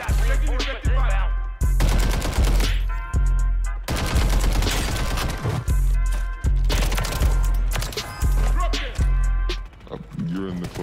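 Shotgun fire in an online shooter game booms in rapid, heavy blasts about once every second, loud and close, nearly continuous through the stretch, with voice chat underneath.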